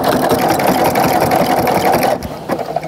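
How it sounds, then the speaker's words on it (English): A sewing machine stitches a jelly roll fabric rug, running in a loud, rapid, steady whir up close, then stopping briefly near the end. "I'm gonna stitch all the way to the edge here."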